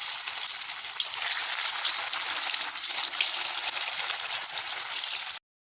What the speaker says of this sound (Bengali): এবার আমি একে একে ভেজে নেব।